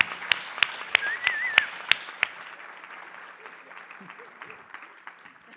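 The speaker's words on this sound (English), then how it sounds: "Let's give another round of applause to Katie Martin, Speaker Craig Coughlin, and Ms. Kay-Ann Foster." Conference audience at a food security event applauds in a hall, sharp individual claps standing out early before the applause thins and fades to a quiet room with faint murmuring.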